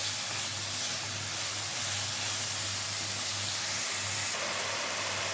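Capsicum lightly frying in a pan, a soft, steady sizzle and hiss running unbroken and fairly faint throughout, with no talking.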